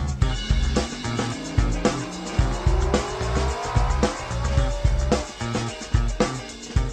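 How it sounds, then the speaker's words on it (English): Several racing cars battle and repeatedly pass one another on a circuit, engines revving in rising, overlapping whines with rhythmic gear-change drops and close, loud bursts. "5 leading cars were having a tremendous battle and were continually passing and repassing one another"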